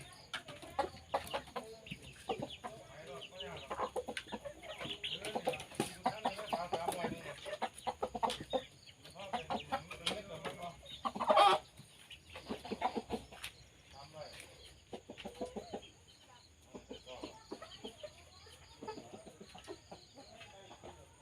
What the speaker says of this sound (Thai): ไก่ที่เลี้ยงไว้นะคะ